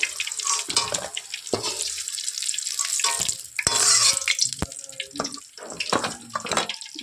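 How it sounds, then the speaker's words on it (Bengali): Pointed gourd and other vegetables frying in a pan, a loud hissing sizzle with sharp clacks of a spatula against the metal as pieces are added and turned. "এই যে সব আমি ভেজে নিচ্ছি। এই যে পটল দিচ্ছি,"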